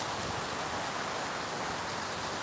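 Heavy tropical rain pours down steadily in Thailand at night, a dense, even roar of drops drumming on surfaces with no pauses, loud and close, no voices.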